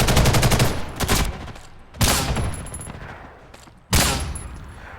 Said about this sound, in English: someone here is using a sniper rifle that, I don't know, I've never seen before